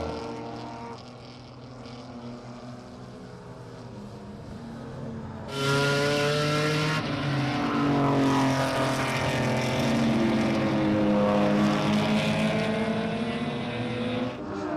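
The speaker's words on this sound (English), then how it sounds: "A few last lap attempts from Van Veen was not enough to prevent Hutzing from taking his maiden Class D win" BMW race cars on a circuit, engines droning steadily and rising as several cars pass close by, loud and continuous with shifting engine pitch.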